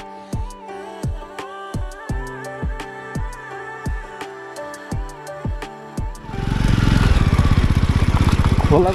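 A motorcycle engine putters in a steady run of thumping pulses on a ride toward a river, then swells into a louder, dense rumble as the bike speeds up.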